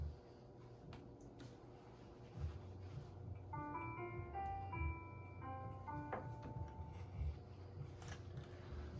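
A short jazz phrase, the well-known lick, picked out as a run of clear melodic notes lasting a few seconds, moderately loud over a steady background murmur and rumble.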